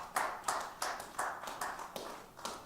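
A small audience at a socially distanced concert claps sparsely, with about eight distinct, evenly spaced claps ringing out in the quiet room.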